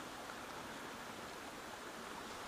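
A clear woodland stream flows steadily, a soft even rushing of water with no breaks, fairly faint and heard alone.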